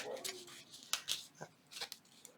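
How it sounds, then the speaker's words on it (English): Tracing paper pages of a matchbook-style junk journal ephemera piece being flipped, several quick crisp rustles and papery crackles in an uneven rhythm, close and fairly soft. "pieces of ephemera with some tracing paper as the pages, and I just love how that sounds"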